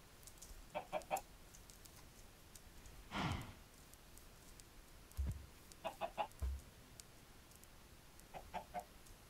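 Chickens in the Minecraft video game give short, scattered clucks in small bursts, with a few louder isolated game sounds between them, fairly quiet and with no talking.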